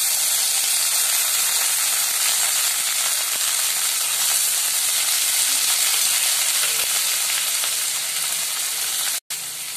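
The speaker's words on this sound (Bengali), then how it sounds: "এবার সবজিগুলো দিয়ে একটু নেড়ে নেব" Vegetables with cumin and dried red chili sizzle hard in hot oil as they are stirred in the pan while cooking sago khichdi, a loud, steady close-up fry that continues almost unbroken to the end.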